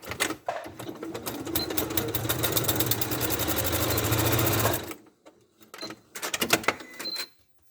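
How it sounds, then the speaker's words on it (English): A sewing machine runs in one steady, fast burst for about five seconds while closing a dart on a fabric toy ladybird, then stops, followed by a few short clicks and handling noises. "I sew from the edge to the fold just to close that dart"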